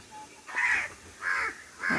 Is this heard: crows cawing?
yes